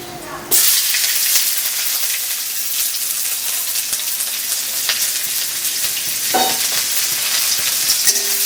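Chopped onion hits hot oil with nigella seeds for a tilapia curry, an abrupt burst into a loud, sustained sizzle and hiss, close, with a few spoon scrapes while stirring.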